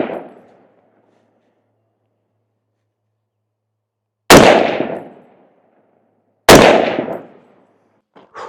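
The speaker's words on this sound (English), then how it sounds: "we're going to shoot it bare with no muzzle device, just so you can get a feel for the sound" A CMMG rifle fired bare with no muzzle device gives two loud, sharp cracks a couple of seconds apart, each ringing out with a decaying echo, after a faint trailing tail at the start.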